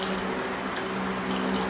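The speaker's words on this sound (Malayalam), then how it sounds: "ഇനി നമുക്ക് ആവശ്യത്തിന് ചാറിന് വെള്ളം ഒഴിച്ച് കൊടുക്കാം കേട്ടോ" Water poured into a pot of prawn and green mango curry, a steady close splashing stream running throughout with no talk.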